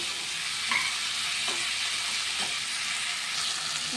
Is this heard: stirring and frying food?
yes